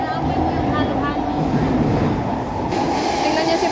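Interior of a moving MRT commuter train, with a steady loud rumble of wheels and car noise filling the cabin throughout and a faint voice partly mixed in.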